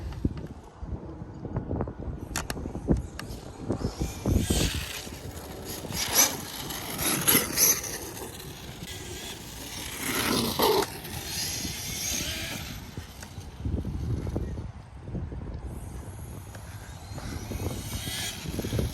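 A Traxxas Sledge RC truck with a hardened spur gear drives outdoors in wind, its whining drivetrain rising and falling in bursts over scraping, gritty noise and gusty rumble.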